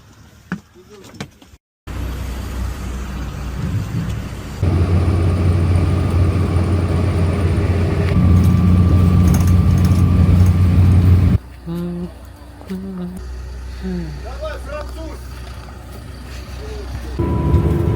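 Bus engine droning on a road while the bus is pulled over, a loud continuous low rumble that shifts pitch and level as it slows, with indistinct talk and other vehicle sounds mixed in.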